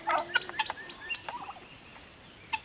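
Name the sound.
bantam rooster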